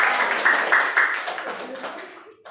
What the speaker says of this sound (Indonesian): Oke, tepuk tangan buat kita.